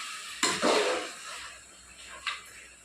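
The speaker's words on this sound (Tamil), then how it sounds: "ஆட் பண்ணிவிட்டு நல்லா கிளறி விடணும்" A spoon stirs mutton curry in a pan, giving one loud scraping sweep with a sizzle, then a quieter simmering hiss and a second brief scrape near the end.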